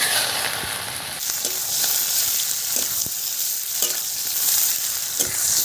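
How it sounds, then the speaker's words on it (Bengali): Onions frying in hot oil with panch phoron give a loud, continuous, close-up sizzle, with a few soft clicks of stirring now and then and no talking. "পেঁয়াজ ভাজা হয়ে গেছে"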